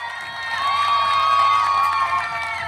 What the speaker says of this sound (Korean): 큰 박수로 함께 해주세요